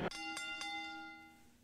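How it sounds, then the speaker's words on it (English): A wrestling ring bell at an NXT event rings in three quick clangs, each strike leaving a bright metallic ring that decays slowly, heard fairly faintly. "bell rings, bell rings!"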